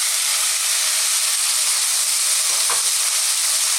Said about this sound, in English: Now we're going to go in with our tuna.